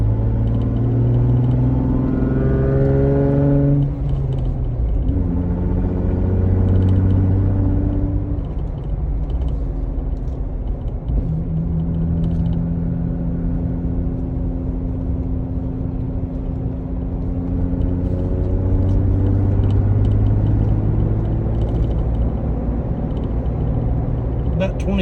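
Jeep Wrangler JK engine running with no muffler, a loud, raspy drone that climbs in pitch through first gear, drops at the shift to second, then climbs steadily again, close and continuous throughout.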